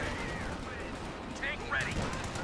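Artillery barrage in Company of Heroes 2, a dense, continuous rumble of distant explosions with a few brighter whistling streaks rising over it.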